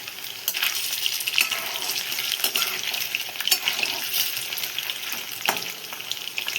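Chicken pieces fry in hot oil over a medium flame, a steady close crackling sizzle with occasional sharper pops and light clinks, running continuously with no voices.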